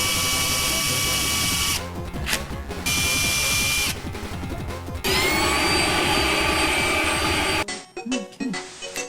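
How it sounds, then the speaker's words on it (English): A Dremel rotary tool cuts the heads off screws in a Game Boy Advance SP during a repair. The high-pitched grinding comes in several loud, sustained bursts separated by short pauses, and a voice is heard at the very end. "we might be able to use something like a Dremel tool to cut it out"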